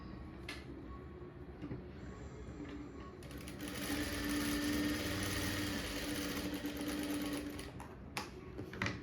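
A sewing machine stitches a blouse at a tailoring lesson, its steady mechanical whirr running continuously and growing louder midway, with short pauses and light handling noises.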